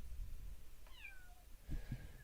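A scared stray kitten meows once, a clear drawn-out cry over a low background hum, followed by faint softer sounds and thumps.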